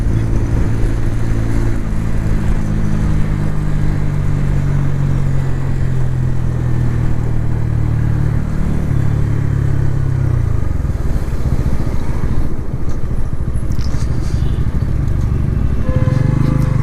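A Bajaj Pulsar N160 dual-ABS motorcycle ridden on the road, its 160 cc engine droning loud and steady as it accelerates, with heavy wind rush throughout.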